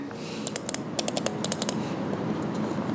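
A quiet computer mouse gives a run of soft, quick clicks in small bursts, close and quiet, followed by a hushed room.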